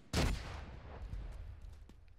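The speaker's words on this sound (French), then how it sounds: "Donc on lance grenade, hein, c'est vraiment efficace." Grenade exploding in The Division 2 video game, one sharp loud boom followed by a low rumbling tail that slowly fades out.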